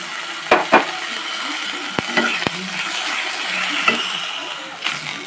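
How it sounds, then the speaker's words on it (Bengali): Ginger garlic paste fries with a steady sizzle in the background while a spatula scrapes and clacks against the pan a few times, close up. "আদা রসুনের পেস্টটা বেশ ভাজা ভাজা হয়ে এসছে"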